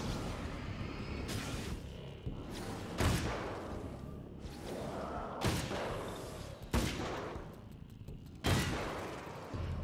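Rifle shots in the video game Alan Wake's American Nightmare, a string of heavy booming blasts every second or two over a dense, roaring game backdrop, loud and close.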